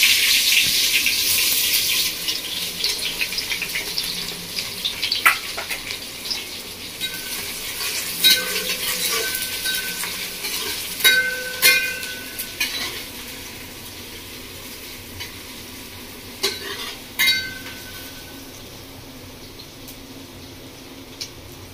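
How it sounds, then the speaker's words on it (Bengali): Sliced onions, two medium ones, dropped into a spice tempering in hot oil for Bengali village-style mutton kosha, giving a bright sizzle at first that settles into steady frying, with repeated stirring scrapes and spoon knocks. "এবার দিয়ে দেবো ফোড়নের মধ্যে আমি কেটে রাখা পেঁয়াজ"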